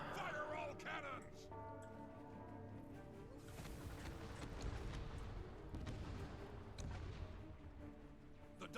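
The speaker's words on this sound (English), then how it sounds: "Fire all cannons." Heavy booming cannon blasts and rumbling explosions in Guild Wars 2 PvP roll on in a loud, chaotic barrage, with some voices briefly heard at the start.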